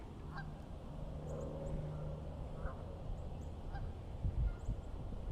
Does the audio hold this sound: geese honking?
yes